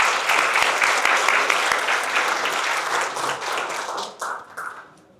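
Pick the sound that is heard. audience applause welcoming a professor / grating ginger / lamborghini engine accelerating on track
audience applause welcoming a professor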